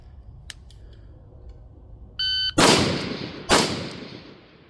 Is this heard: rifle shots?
yes